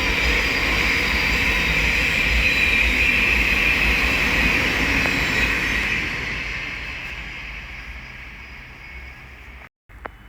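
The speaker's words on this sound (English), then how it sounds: "The next train to pass by is going to be a Thameslink Class 700 from Bedford to London" A Thameslink Class 700 electric train running from Bedford to London Blackfriars on the Midland Main Line at Elstow passes close by as a loud sustained roar and hiss, then fades away over the last few seconds.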